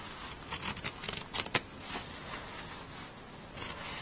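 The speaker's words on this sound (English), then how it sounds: "now I've used my pinking shears and I've pinked around all 4 sides" Pinking shears snipping through denim jeans fabric while trimming a hair bow piece, giving several crisp, close cutting crunches in quick irregular bursts with quiet gaps between.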